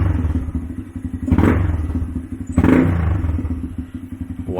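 A Honda Grom motorcycle engine idles with a steady low putter, then twice revs sharply upward from idle and drops back, close and loud with no talk.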